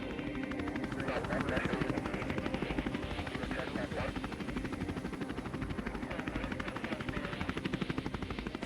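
A medevac helicopter's steady rotor thump and engine whine fill the clip during a mountain rescue, close and loud, with voices faintly audible beneath the noise.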